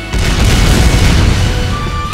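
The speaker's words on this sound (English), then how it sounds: "Fire broadside batteries!" In a video game, a broadside battery of cannons fires as one loud, sustained booming blast with deep rumble that stays heavy and dense throughout the short moment.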